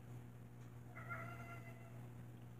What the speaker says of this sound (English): poor cat. He's mad.